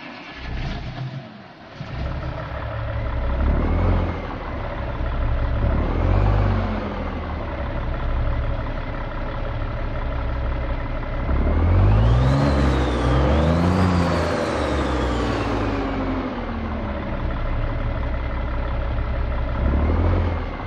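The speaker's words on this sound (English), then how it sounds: "let's go ahead, start up the engine, and hear what she sounds like." A Cummins Big Cam diesel truck engine in American Truck Simulator cranks and fires up, then idles with a deep rumble, revving up and down with a rising whine midway before settling back to a steady idle.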